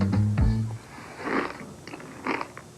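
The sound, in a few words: crunching frosted bran cereal being eaten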